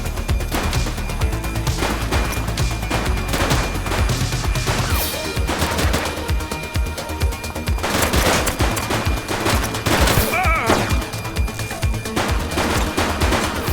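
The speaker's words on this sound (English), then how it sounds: "He's shooting!" Bursts of gunfire from The Precinct police game, rapid automatic volleys and sharp shots, loud and dense over a continuous background mix of game sound, with no talk.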